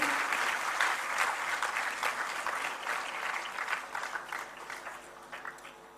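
Audience applause at a state award ceremony honouring top-scoring students, attended by the governor and chief minister: a thick, even wash of clapping that starts strong and slowly tapers off, with no voices over it.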